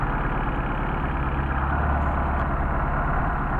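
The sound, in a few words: 190SL engine idling with Solex carburetors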